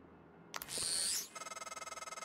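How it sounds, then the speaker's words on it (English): An incoming phone call rings in the video game Prey: after a brief click and a swelling electronic chime, a rapid, pulsing, trilling ring repeats steadily and close, with no talk. "Incoming call."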